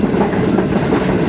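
Pak Business Express train running on rails between Lahore and Karachi near Nawabshah, heard from on board: a loud, steady rumble with clickety-clack wheel rhythm throughout and no voices.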